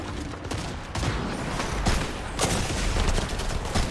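Fortnite ranked match gunfire: dense overlapping shots and bursts, loud and close, with brief lulls between volleys and no speech over it.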